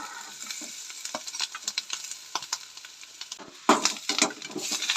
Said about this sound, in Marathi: आनी सोय बी बरी भाजून घेवंक जाय